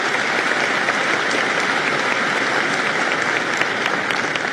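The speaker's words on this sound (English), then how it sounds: "So I would like to get a round of applause for Dr. Bell for 10 years of tremendous service to the University of Alabama." Crowd applause at a University of Alabama commencement ceremony: dense, steady clapping from a large audience that holds at an even level throughout, with no voices standing out.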